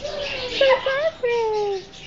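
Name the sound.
birds chirping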